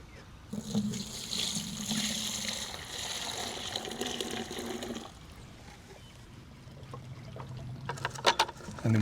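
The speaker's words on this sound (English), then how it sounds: "And then we're just gonna pour it over to our other 5-gallon bucket." Alfalfa tea poured from one 5-gallon bucket into another, a steady close gush of liquid lasting several seconds that fades to a trickle, followed by a few sharp splashes and knocks.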